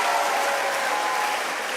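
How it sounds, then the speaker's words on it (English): An audience claps in dense, steady applause at a school distinction awards ceremony, filling the room evenly throughout. "A round of applause for her."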